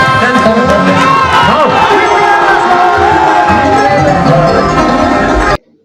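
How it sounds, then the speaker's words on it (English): Supporters cheer and shout loudly at a campaign flag-off rally, a dense, sustained crowd roar with raised voices that holds steady throughout before cutting off abruptly at the end. "Each speech was met with cheers, applause, and visible excitement from supporters."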